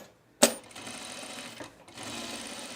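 Sewing machine stitching a bias cut dress: a sharp click as the foot engages, then a close, steady motor whir that pauses briefly and resumes.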